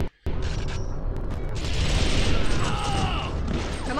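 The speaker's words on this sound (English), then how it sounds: "plasma auto rifle" Plasma auto rifle in TimeSplitters: Future Perfect, a futuristic battle scene with a sustained mechanical whirring and rattling burst of fire, loud and close, and electronic whines layered over it.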